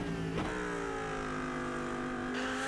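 Onboard engine of the number 53 Lamborghini Huracan GT3 Evo 2 racing at Suzuka in iRacing: a loud, steady high-pitched drone with a quick gear change near the start.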